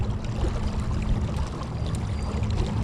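Newport Vessels 55 lb thrust trolling motor pushing a Nucanoe Frontier 12 kayak at top gear, a steady low churning drone with water rush and splashing, continuous and close, no talk.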